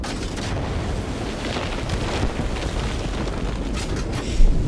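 An explosion in the Batman Arkham Knight video game rumbles as a sustained, loud, noisy roar with a low boom near the end, heard alone without talk.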